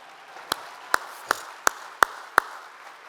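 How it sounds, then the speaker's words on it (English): Six slow, evenly spaced hand claps ring out one at a time at a scholarship ball, sharp and fairly close against a quiet room, more like a lone clapper than a full audience. "you can clap for that, that's pretty awesome actually"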